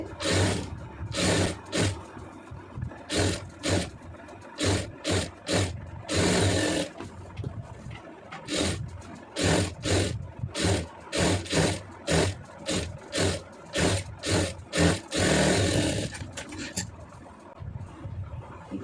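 Sewing machine stitching a plain blouse, running in repeated bursts of rapid mechanical clatter separated by short pauses, close and fairly loud with no voice over it.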